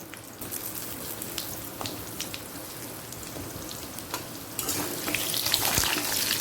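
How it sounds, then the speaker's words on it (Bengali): Potatoes fry with panch phoron in a pan over a medium-high gas flame, giving a steady crackling sizzle that grows louder and busier partway through, with no talking. "আলুটা তিরিশ সেকেন্ড একটু ভেজে নেব"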